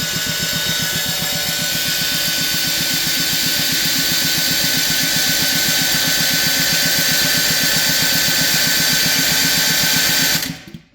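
A rare Honda lawn tractor engine is cranked over by the starter, a loud, fast, even chugging whir held steadily for about ten seconds, then cut off abruptly.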